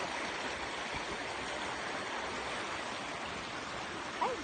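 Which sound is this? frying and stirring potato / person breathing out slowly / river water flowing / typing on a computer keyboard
river water flowing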